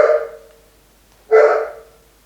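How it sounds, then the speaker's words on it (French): Two separate dog barks, close and fairly loud, each a short sharp yelp with a fading tail, the second following after a pause of about a second. "Bah oui, Serge, n'aboie pas."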